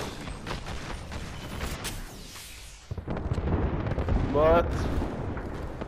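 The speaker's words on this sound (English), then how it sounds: "Now there's an airstrike, I see you!" Airstrike explosions in the video game Apex Legends: repeated heavy booms and rumbling blasts under game noise, with a brief spoken word.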